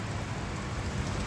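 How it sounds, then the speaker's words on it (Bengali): Rain pours down in Ajman in a dense, continuous hiss of drops close by, with no voices over it. "দেখেন ভাই কি অবস্থা, বৃষ্টি আজমানে।"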